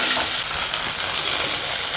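Garlic and onion fry in a pan with a steady, dense sizzle that is loud at first and eases slightly after a moment, then carries on evenly with no voices.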